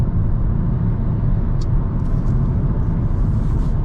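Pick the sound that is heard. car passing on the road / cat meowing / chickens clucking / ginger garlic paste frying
car passing on the road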